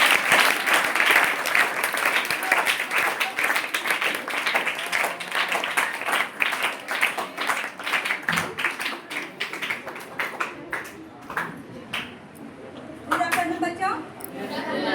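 Students clap to welcome a teacher at a school event marking Premchand's birth anniversary, a loud burst of dense clapping that slowly breaks into scattered claps. Light chatter and a chuckle come near the end.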